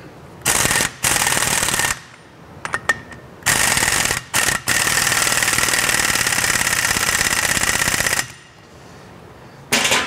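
An electric vehicle motor on a test stand, fitted with a new bearing, runs up in loud sustained bursts of broadband whirring and buzzing, cutting out briefly between runs and dropping away near the end.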